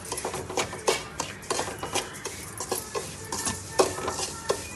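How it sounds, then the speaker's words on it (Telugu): Semolina being stirred and roasted in ghee in a pan, giving a steady soft sizzle broken by repeated scraping strokes of the spoon at an irregular rhythm, close and moderately quiet, with no talking. "కావాల్సినంత నెయ్యి వేసుకొని రవ్వని బాగా ఎర్రగా వేపుకోవాలి."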